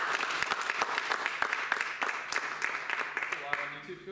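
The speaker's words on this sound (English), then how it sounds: "Let's give Ray and Joseph another hand of applause." Audience members in a seminar room clap for the presenters, a moderate round of distinct hand claps with some talk and cheering mixed in before it fades.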